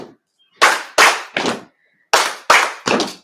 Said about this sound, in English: Clap, clap, stomp.